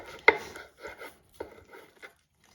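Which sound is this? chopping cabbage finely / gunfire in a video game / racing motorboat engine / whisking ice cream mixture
chopping cabbage finely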